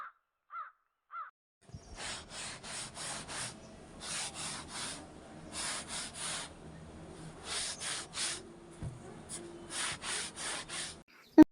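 A broom sweeps an indoor house floor in quick, rhythmic swishing strokes that come in short bursts with brief pauses between them, fairly close and moderately soft.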